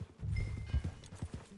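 Horse hooves in Red Dead Redemption 2 clop in a quick run of close, moderately loud hoofbeats over a short stretch, with no talk over them.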